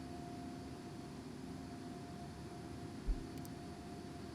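Boeing 777 engines at go-around thrust in a flight simulator produce a steady, faint jet roar with a thin constant whine and a single soft thump near the end.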